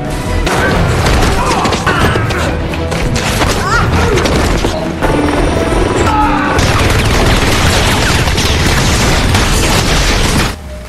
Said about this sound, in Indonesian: Galgo hampir terkena tembakan dari helikopter musuh